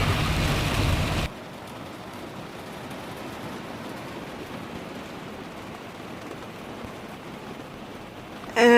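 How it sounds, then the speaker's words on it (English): Heavy rain pelts a van during a summer storm, a loud dense hiss at first that drops to a steady softer patter inside, with a brief burst at the end. "whenever you get that heat, it rains and like crazy, and you get storms like this."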